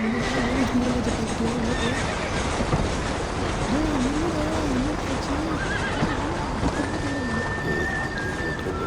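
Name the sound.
horse neighing and running in the video game Red Dead Redemption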